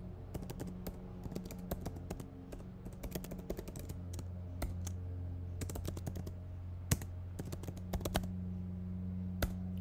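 Typing on a computer keyboard comes in irregular bursts of sharp, close key clicks with short pauses between them, heard alone over a quiet background.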